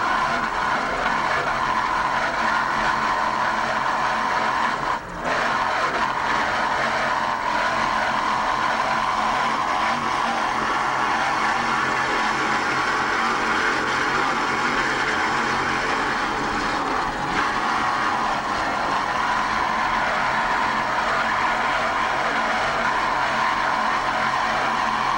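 A B87 38-foot Velocity racing powerboat, Gulf Wind Velocity, roars at a steady, loud throttle during a Key West world championship race, with one brief dip in the engine note partway through.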